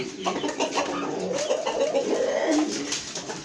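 Brahma chicken chicks chirp and peep continuously at close range, a busy cluster of small high calls layered over one another.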